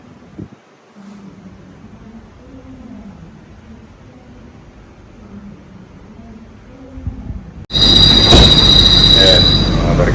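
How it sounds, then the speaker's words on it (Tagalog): A train rumbles in low and steady, then abruptly swells into a loud, close roar with high metallic wheel squeal and screeching. "malapit na yung tren"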